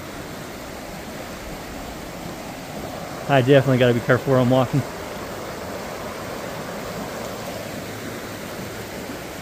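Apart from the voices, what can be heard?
river flowing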